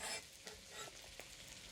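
Onion and garlic sizzle and fry in a wok as they are stirred, giving faint scraping and hissing bursts over a short stretch.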